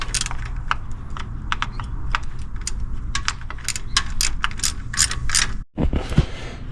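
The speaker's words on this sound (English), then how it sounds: "Tighten this back up" A ratchet clicks rapidly and steadily, up close, while tightening the belt tensioner on a 2002 Toyota Tacoma 2.7L, pausing briefly before a few more clicks.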